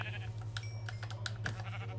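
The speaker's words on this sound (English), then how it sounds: "we're gonna need to kill some of these sheep too" Blocky sheep in Minecraft bleat a few times over a steady low game hum, short nasal calls scattered across the moment, fairly close and clear.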